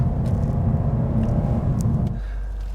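A 2020 BMW M550i V8 with active sound design switched off, idling with a deep, steady low rumble close by for about two seconds before the engine note drops away to a quieter hum.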